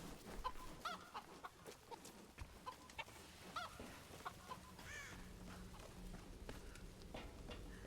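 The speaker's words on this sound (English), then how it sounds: "Chicken." Chickens in the video game Tomb Raider: Definitive Edition cluck and squawk in a run of short bursts over a steady background ambience, fairly near and moderately quiet.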